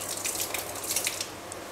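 Water being poured into basmati rice in a cooking pot for a ridge gourd pulav, a soft continuous trickling and dripping pour at close range with no talking.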